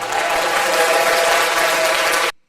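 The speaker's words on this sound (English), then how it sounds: "give me a round of applause real quick" A live audience breaks into loud, dense applause that holds steady for a couple of seconds, then cuts off abruptly.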